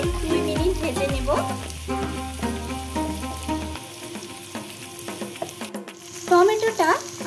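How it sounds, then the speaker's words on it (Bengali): Onion and tomato frying in a pan, giving a steady, close sizzle with scraping stirs and clinks of a utensil against the metal, plus some tonal background music throughout. "এখানে আমি পেঁয়াজ আর টমেটো দিয়ে 2 মিনিট ভেজে নেব।"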